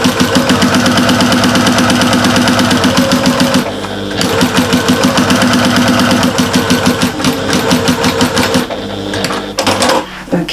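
A sewing machine stitches a large shopper bag in fast, rhythmic bursts, pausing briefly twice before running again, close and loud.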